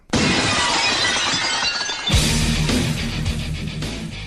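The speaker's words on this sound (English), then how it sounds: "Here's Stone Cold's theme actually, now they found it" Glass shatters loudly, then Stone Cold Steve Austin's wrestling entrance theme kicks in, a heavy rock track with pounding drums and distorted guitar, playing alone at full volume.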